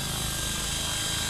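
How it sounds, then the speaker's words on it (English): A scale RC helicopter with a DJI Wookong-S flight controller hovers and yaws, its rotor and motor drone loud, steady and continuous throughout the short stretch, with no talk. "Now we can go ahead and yaw the helicopter."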